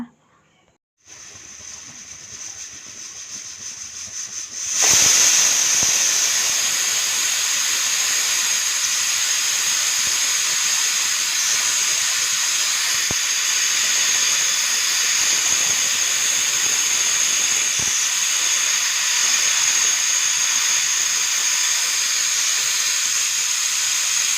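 A pressure cooker on the stove cooking rice lets off steam: after a quieter start, a loud, continuous, harsh hiss bursts in and holds steady at close range, with no talking.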